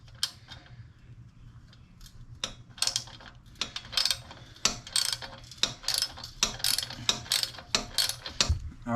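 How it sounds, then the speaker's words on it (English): Ratcheting wrench clicks in quick irregular bursts while loosening the exhaust flange on a Kawasaki KLX 300 motorcycle, close and fairly loud over a low steady hum. "Now I'm gonna work on this little flange"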